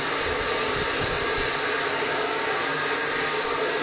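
A hair dryer blows steadily at close range during a smoothing brush blow-dry, a constant loud airy whoosh with no voice over it.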